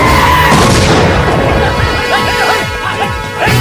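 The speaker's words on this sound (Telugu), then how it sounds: "మీరా మీరని తెలియక చిన్న బాంబు పెట్టాను" A small bomb goes off as a comedy-film sound effect, a loud crashing burst with a bright zing that fades into scattered debris and rumble over a few seconds, with no talking.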